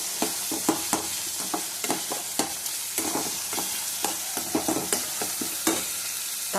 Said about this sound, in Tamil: இப்போ நம்ம தக்காளியை ஆட் பண்ணிக்கலாம். தக்காளி கொஞ்சம் வதங்கட்டும்.